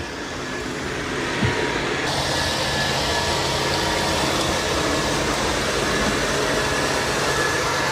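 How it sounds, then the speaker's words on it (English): A Dreame L10S Ultra Gen 2 robot vacuum cleaning a floor gives a steady, loud broadband whir that jumps slightly louder after a couple of seconds and then holds constant, with no talking. "Yeah, it's doing a really good job of vacuuming."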